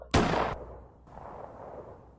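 A single loud gunshot rings out in a story-driven RPG game, a sharp blast that decays over half a second, followed by a quiet low hum.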